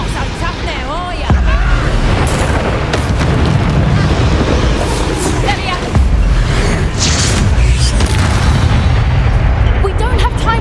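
Hogwarts Legacy combat with spell blasts including the Confringo blasting curse: heavy booming explosions under shouted spell names and a busy, loud battle din throughout.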